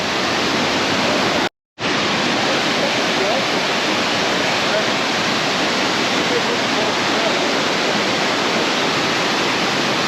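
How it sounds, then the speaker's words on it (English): Crystal-clear mountain water rushes down at Josephine Falls in a loud, steady, broadband roar that fills the scene close by, broken only by a brief dropout near the start. "crystal clear water running down out of the mountains"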